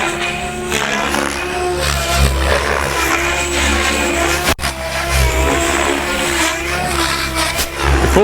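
A large electric RC car makes a fast speed pass, its high-pitched motor whine loud and rising then falling as it rushes by, with a sharp dropout midway and continued roar.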